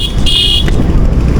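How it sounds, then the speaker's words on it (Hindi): A single car horn honks briefly from behind over a steady rumble of traffic on the road to Chhota Kailash, Uttarakhand, the engine noise continuing afterward. "कोई हॉर्न दे रहा है पीछे से,"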